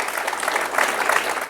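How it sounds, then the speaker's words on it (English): Applause from a conference audience at a liberty forum, a dense crackle of many hands clapping that swells slightly in the middle and tapers at the end, with no voices over it. "Absolutely, round of applause."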